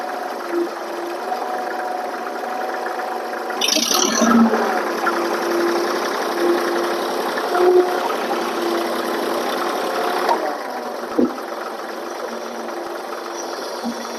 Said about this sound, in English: My old tractor don't want to pick her up.